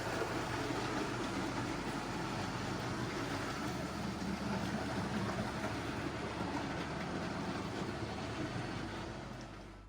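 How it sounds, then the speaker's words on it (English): A railway breakdown train carrying two cranes pulls away, giving a steady, broadband rumble of rolling stock and engine that holds constant for about ten seconds before easing off slightly at the end. "That's what you call a breakdown train"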